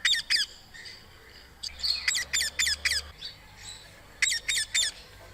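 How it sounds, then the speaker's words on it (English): Recorded parakeet calls played back outdoors: harsh, shrill squawks in quick bursts of two to four, repeated several times with short pauses over faint background hiss. "we're going to resort to playing some sounds, parakeet calls, really."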